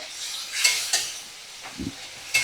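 Cumin paste and green chili pieces stirred in a frying pan: a quiet sizzle under a few sharp, separate scrapes and clinks of the utensil against the pan, near and without speech.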